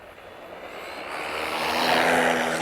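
A Traxxas RC car motor at full throttle, a rising high-pitched whine that builds steadily in loudness as the car speeds away with ballooning tyres.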